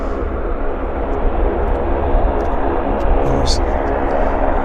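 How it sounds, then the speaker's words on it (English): A WestJet commuter airliner operated by Pacific Coastal, a small, noisy plane, arrives at Vancouver airport with a loud, steady engine roar that stays close and even throughout. "here's our Westjet commuter coming in, operated by Pacific Coastal"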